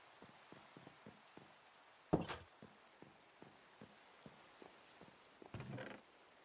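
Rain falls in Minecraft as a soft, faint patter of scattered ticks, broken by two brief louder bursts of noise.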